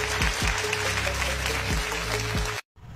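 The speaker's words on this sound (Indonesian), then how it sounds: "Kita beri tepuk tangan yang meriah untuk Deddy Mulyadi." Audience applause for Deddy Mulyadi at a political event, a loud sustained burst of clapping with a few low thumps, cut off abruptly near the end.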